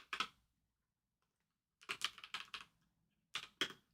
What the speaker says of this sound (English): Now you can hear the typing.